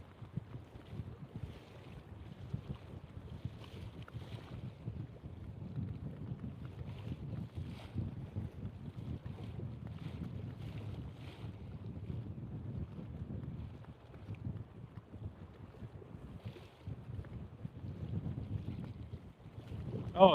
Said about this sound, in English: But look how bad this wind is.